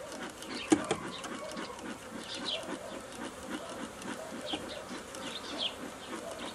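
Honeybees hum steadily around a populated beehive, a faint, continuous buzzing with a few light knocks near the start and no speech.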